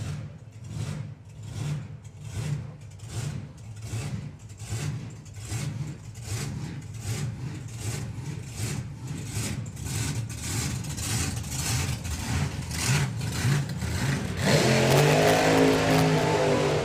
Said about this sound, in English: The hunting of the engines was in unison there for a little while.